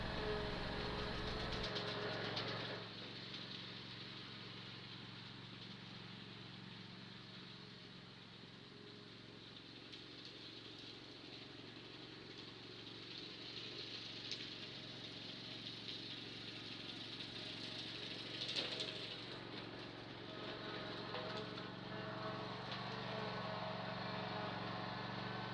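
A riding mower engine runs steadily while pulling an Ohio Steel 50SWP26 Pro lawn sweeper around a yard, a continuous mid-pitched drone with constant vibration and no talk.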